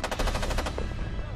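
A light machine gun fires a quick burst of about nine rapid, evenly spaced shots, loud and close, followed by a brief fading echo.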